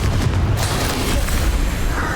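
Confringo blasting spell explosions from the Hogwarts Legacy video game, a dense, continuous rumble of booming blasts with heavy low-end thumps throughout.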